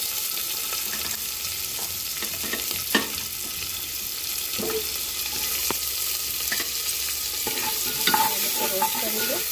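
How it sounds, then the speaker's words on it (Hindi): Chopped onion frying in a pan for green moong dal khichdi: a constant hissing sizzle close by, broken by occasional scrapes and clicks of stirring, with no talk. "मैं इसमें ये ऑनियन, चॉप्ड अनियन ऐड कर रही हूँ।"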